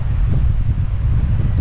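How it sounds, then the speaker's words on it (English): Strong wind buffets the microphone at Anchor Point, Alaska, a loud continuous low rumble and roar with no letup over the short stretch and no voices. "You probably can't hear us because of the wind."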